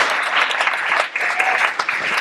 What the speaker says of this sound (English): How about a round of applause for our Christine Boucher